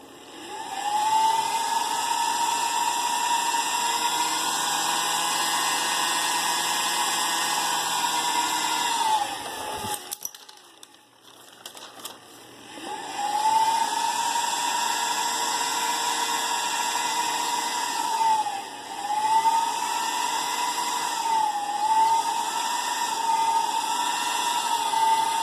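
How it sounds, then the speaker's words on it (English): Small electric motor under wireless PWM speed control, a steady whirring whine that rises and falls in pitch, cuts out briefly, then spins back up with several speed swoops, close and loud with no talk. "I can control the motor speed by varying the frequency or the duty"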